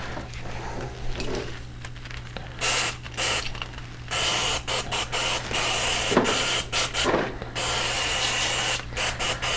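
Cleaner sprays out of a DAP Sharpshooter foam dispenser gun in repeated hissing bursts of varying length, with mechanical clicks between them, over a steady low hum.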